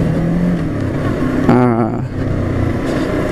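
A Morbidelli T252X motorcycle rolling along an uneven gravel road, its engine a steady, close drone with a brief rising whine in the middle, blended with road and wind rumble throughout.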